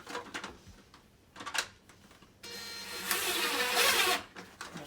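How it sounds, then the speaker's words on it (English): Tiny 16mm screws are driven into a reptile enclosure background, heard as a close, buzzing power-driver whir in short bursts followed by a longer steady run, with light handling clatter. "So I'm just using tiny 16mm screws."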